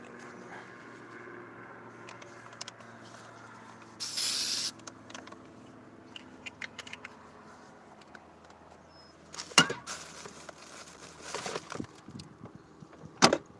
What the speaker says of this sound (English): I'm gonna spray my disinfectant spray too all over all the shit.